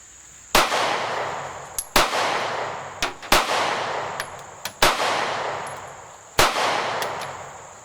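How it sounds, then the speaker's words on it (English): Ten shots from a SCCY CPX2 pistol fired one-handed at a range, sharp loud reports at irregular intervals with lighter clinks of brass between them. "Ten rounds shooting the gun one-handed without any kind of problems."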